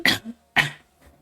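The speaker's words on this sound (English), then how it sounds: "Wait a second, I got a cough." Two sharp coughs in quick succession, close up, followed by a faint throat-clearing rasp.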